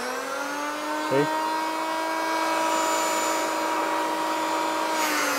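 Bosch GHD 26-82D electric planer motor running at a steady, loud whine with constant tones the whole time, and a brief spoken word early on over it.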